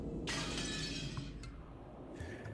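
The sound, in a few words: window glass smashed with an antique chair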